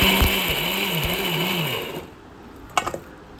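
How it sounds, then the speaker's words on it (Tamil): A kitchen mixer grinder grinds boiled corn with fennel, cumin, pepper, cinnamon, garlic and ginger. Its close, loud motor whirs with a wobbling, pulsing pitch for about two seconds, then cuts out, followed by a brief clatter. "வேக வச்ச கானை நம்ம மிக்ஸி சாரில் சேர்த்துட்டு சோம்பு, சீரகம், மிளகு, பட்டை, பூண்டு, இஞ்சி சேர்த்து நம்ம அரைச்சிக்கலாம்."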